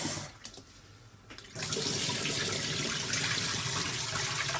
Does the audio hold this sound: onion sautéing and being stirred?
no